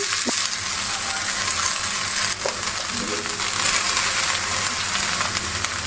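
Stem amaranth greens hit hot oil with fried onion, green chilli and garlic and sizzle loudly and steadily close up, with a few faint clinks of stirring.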